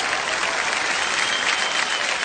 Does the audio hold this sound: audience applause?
yes